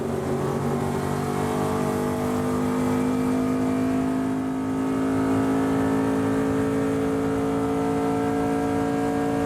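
ARCA Menards Series stock cars at Kansas roar through a restart, a dense, loud engine drone with steady pitched tones rising slightly as the field accelerates, continuous throughout with no voices.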